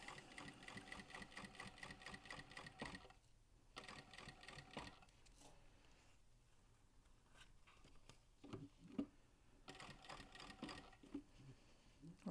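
A sewing machine bastes around the seams of a bag, fast close needle chatter in running bursts broken by pauses, with faint talk in the gaps.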